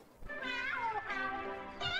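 A cat meows several times in close succession, loud and near, with drawn-out, wavering cries and no talking over them.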